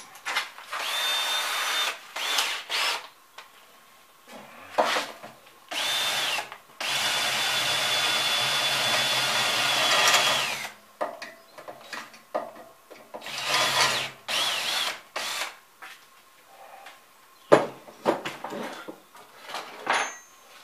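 A power drill widens a hole to 7 mm in scrap material for a pedal-powered camper van, running in repeated bursts of a few seconds each, the longest about four seconds, with quiet pauses and handling noises between them.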